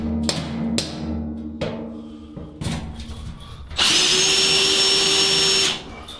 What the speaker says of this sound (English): Once it's finally in, we make sure that it is drilled into place.